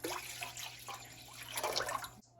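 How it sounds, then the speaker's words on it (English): Water pours into a cooking pot being filled to boil spaghetti noodles, a steady splashing rush for about two seconds before it cuts off. "We add on the water."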